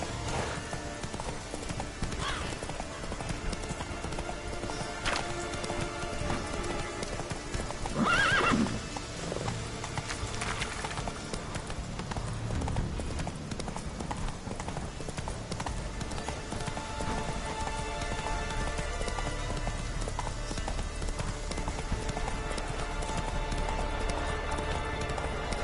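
Roach, a horse in The Witcher video game, gallops with steady clip-clop hoofbeats and a whinny, heard over continuous game music and ambient sound.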